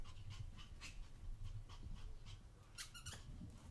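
A dog pants in quick, rhythmic bursts close by, with a few squeaky whimper-like notes near the end, heard indoors with no talking.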